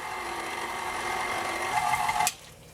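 A stand mixer with paddle attachment running on slow speed through cake batter for a chocolate pumpkin marble cake, giving a steady mechanical whir with a rising tone near the end before it abruptly switches off, close and without talking.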